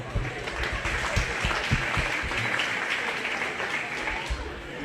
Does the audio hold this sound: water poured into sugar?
no